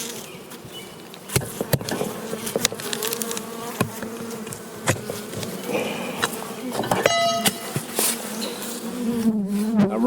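Honeybees from an aggressive colony buzz loudly and continuously around an opened hive as the top box is pried off, with close passing wingbeats, some knocks and handling noises, and a voice speaking briefly.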